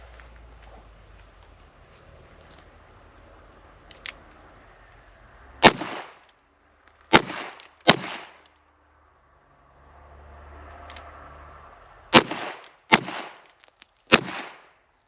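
Sharp, loud handgun shots fired from the hip, six in total, come in uneven pairs and singles with short ringing echoes and quiet pauses between them.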